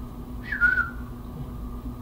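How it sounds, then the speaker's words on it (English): A character in the game Mafia 3 whistles a single short note that rises and slides briefly, clear and close, against a quiet low hum. "Dude starts whistling."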